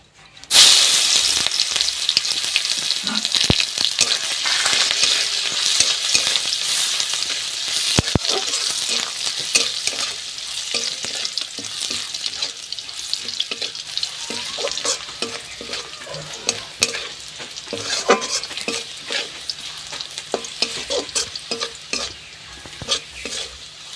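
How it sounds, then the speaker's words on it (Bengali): Crushed garlic sizzles in hot oil in a kadai while a spatula stirs and scrapes steadily, a continuous close frying hiss broken by frequent metallic scraping clicks. "রসুনটা একটু ভাজা ভাজা হয়ে গেছে"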